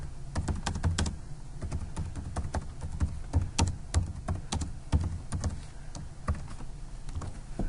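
Keys on a computer keyboard are tapped steadily as words are typed into a greeting card, an irregular run of close, crisp clicks with short pauses between bursts. There is no talking.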